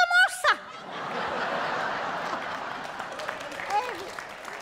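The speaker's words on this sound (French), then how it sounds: "Après les applaudissements," An audience claps steadily in a hall, a diffuse wash of applause mixed with scattered chuckles, after a brief burst of laughter and voices at the start, with a voice rising again near the end.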